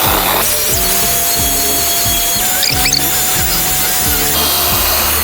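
A dual-action polisher with a pad and polishing compound runs at close range on a car's paint, giving a loud, steady mechanical drone broken by rhythmic pulsing thumps as it moves across the surface.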